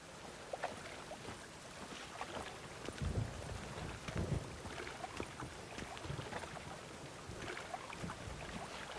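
Heavy rain pours in The Witcher 3, a dense steady hiss with scattered splashes and a few low rumbles, filling the scene without any talk.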